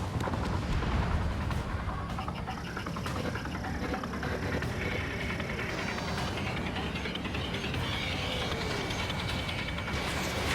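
Missile launches and gunfire in the air-combat game Ace Combat 7, a dense roaring jet-engine rumble with bursts of firing and whooshing, loud and continuous.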